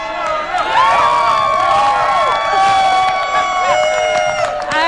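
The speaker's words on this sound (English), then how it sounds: "This is where you guys cheer." A concert audience cheers loudly, with high shrieks and whistles rising over a dense crowd roar that carries on for several seconds.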